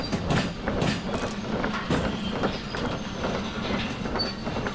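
A train rolls along rails in the Derail Valley simulator, steady close rumble with rhythmic clickety-clack wheel beats and occasional faint squeals, no talking.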